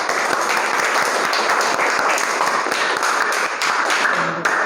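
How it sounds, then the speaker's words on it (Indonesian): A school class claps hands together in an Arabic lesson, loud, dense rapid clapping sustained for several seconds, close and continuous. "Yuk tepuk tangan"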